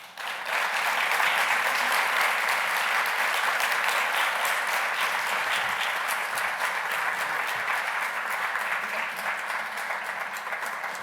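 Sustained applause from a large audience, steady dense clapping that holds evenly for several seconds without any voices standing out.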